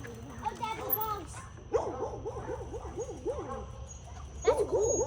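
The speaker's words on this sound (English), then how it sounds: "Daddy, dogs." Dogs by a rural road bark, yip and yelp in repeated bursts close by, with a voice and some talking mixed in.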